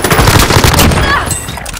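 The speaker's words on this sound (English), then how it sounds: "I'm under fire!" Loud, rapid gunfire in the video game Fortnite rattles continuously at close range for nearly two seconds, with bursts crowding one another before easing slightly at the end.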